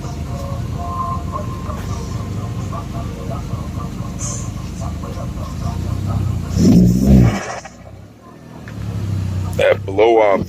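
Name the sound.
car engine revving with blow-off valve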